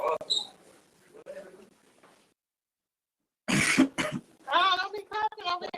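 A quick, close cough bursts out after a pause, surrounded by people talking before and after it.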